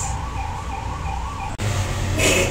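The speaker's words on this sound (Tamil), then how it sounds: "ஆம்புலன்ஸ்" An ambulance siren wails loudly with a wavering tone over the rumble of traffic, then the sound cuts abruptly and resumes with a shifted, louder road noise.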